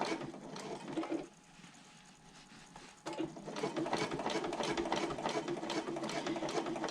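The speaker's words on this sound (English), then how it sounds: "So I'm going to sew down the side of the pocket, moving the liner panel out of the way as I go." A sewing machine stitches down the side of a handbag slip pocket, its rapid mechanical whirr running steadily, pausing briefly for a couple of seconds, then resuming at full, close, even speed.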